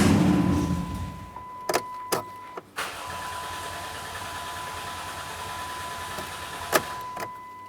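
A Chrysler Town & Country with a 3.8L engine cranks, catches briefly and then stalls, followed by a few clicks and a faint steady electronic tone in a quiet setting.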